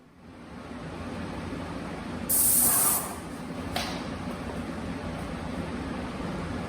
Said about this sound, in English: to paint, I switched over to my Graco airless sprayer